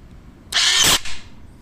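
A Land Rover Discovery 3/4 or Range Rover electric parking brake motor, run directly from a cordless drill battery, gives a short loud whirring buzz for about half a second and then a brief weaker follow-on whir before quiet returns.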